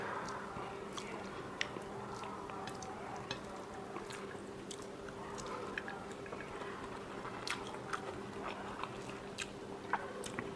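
Cooked ash gourd being eaten at close range produces soft, wet chewing and squishing with scattered small clicks and smacks over a quiet, low hum.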